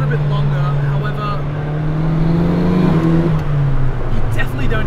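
A turbocharged Nissan Silvia S13 running about 10 PSI of boost with an S14 five-speed manual drives along, its engine droning loud and steady with a rising pitch sweep, while a voice talks over it.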